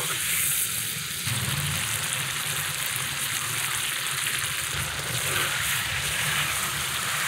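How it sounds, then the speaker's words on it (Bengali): Ridge gourd and potato pieces coated in ground raw cumin paste fry in a curry pan for fish, giving a steady, close, loud sizzle that runs unbroken throughout with no talking. "মশলা সহ সবজিটা একদম ভাজা ভাজা হয়ে গেছে"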